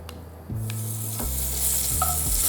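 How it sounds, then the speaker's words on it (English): Ginger hits hot oil with a bright sizzle that starts about half a second in and keeps up steadily, while a few knocks and scrapes of a utensil stirring the pan cut through it, for a sauté going into a vegan shiitake mushroom wonton soup. "So we add a little bit of oil, and then your ginger."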